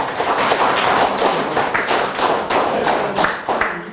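Audience at a special lecture claps in lively, sustained applause to welcome the speaker, dense and close for the whole stretch, with no speech over it.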